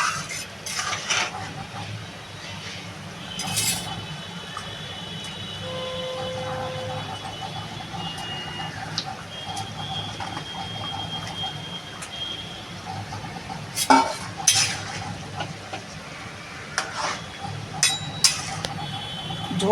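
Katla fish going into a taro curry in a pan, with clinks of a utensil against the pan and soft stirring scrapes, close and intermittent over a steady low background.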